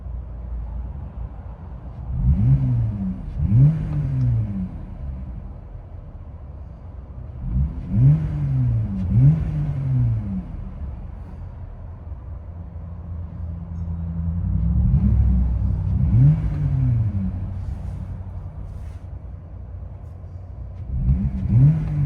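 Inside the cab of a Jeep Gladiator with a 3.6L V6 and muffler delete, the exhaust drones low and steady, broken by repeated throttle blips that rise and fall every few seconds.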